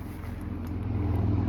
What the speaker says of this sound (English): You can hear and see the traffic.